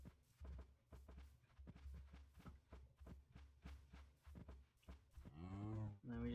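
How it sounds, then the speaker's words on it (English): Several Minecraft cows moo in a farm setting, repeated low calls close by, with footsteps shuffling between them and a short voice near the end. "Yay, we have cows."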